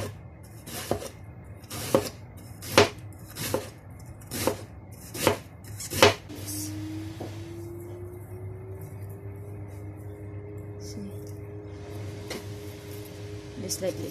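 Knife chopping cabbage on a cutting board, about seven close, evenly spaced thuds in a steady rhythm, followed by a quieter stretch of kitchen hum with a faint voice.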